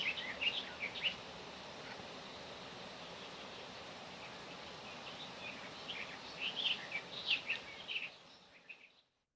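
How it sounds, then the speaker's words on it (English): Flowing river water hisses steadily throughout while birds chirp and tweet in short bright bursts near the start and again later, before everything fades to silence. "we'll just have 2 more seconds of birdsong and river"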